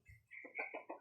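A labuyo, a wild junglefowl kept in a backyard, gives one low grunt followed by a quick run of three or four sharp clucks. The calls are brief, close and clear, with no voices.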